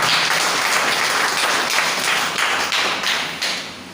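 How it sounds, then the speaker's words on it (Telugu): A church congregation clapping loudly together, a dense, sustained roar of many hands lasting about four seconds with some louder individual claps coming through near the end. "అందరూ ఒకసారి గట్టిగా చప్పట్లు కొట్టి"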